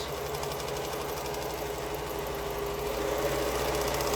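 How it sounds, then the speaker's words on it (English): A sewing machine runs nonstop along a long straight quilting seam, giving a close, even mechanical whirr with a fast regular needle rhythm and no pauses. "sew the whole length. Really not that exciting of sewing."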